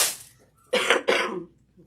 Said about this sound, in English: Cough, my COVID cough there going on.